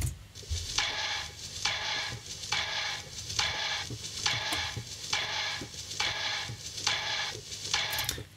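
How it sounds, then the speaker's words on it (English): A looping noise texture with bursts of hissy, bright noise pulsing at a steady rhythm roughly every 0.8 seconds over a low rumbling bed. "So I have this noise loop"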